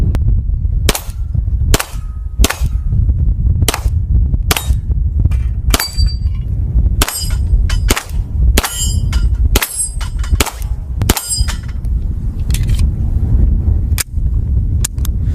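A Beretta M9A3 9mm pistol fires at steel targets, each sharp shot followed by a ringing metallic clang, about twenty rounds in an uneven rhythm at close range with no talking.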